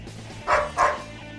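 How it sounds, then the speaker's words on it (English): A dog gives two quick, close barks in succession on a quiet background. "looking forward to my dog not barking"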